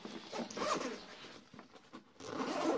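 Zipper being pulled closed on a TIGERNU T-B3143 city backpack, a close, continuous rasping run with short pauses and a final stretch of zipping.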